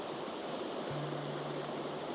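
River Dart flowing on a grey day, a steady broadband rush of moving water, even and continuous with no other distinct sounds.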